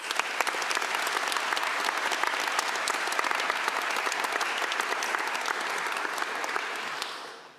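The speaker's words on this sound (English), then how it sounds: "So another round of applause for the Finate team." A conference audience at the EuroPython 2025 closing applauds a team with dense, sustained clapping that stays loud and even for about seven seconds before quickly fading out at the end.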